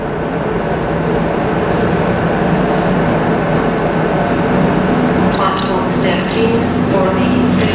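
A train departs Edinburgh Waverley station, a continuous loud rumble and roar of rolling stock with faint higher squeals toward the end, filling the whole stretch.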